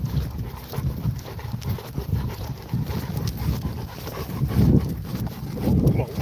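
A dog pants steadily while walking outdoors, with rhythmic footfalls and rustling under gusty wind noise on the microphone, continuous and fairly close throughout.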